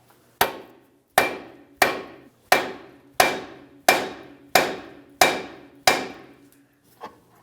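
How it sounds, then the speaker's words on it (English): Nine sharp metallic hammer blows ring out at a steady pace on the steering knuckle of a 2006-2012 Ford Fusion to free the tie rod end, each strike close and loud with a short ringing decay, then one softer tap. "when I tap on this knuckle, the tie rod will come down, but it can only come down so far"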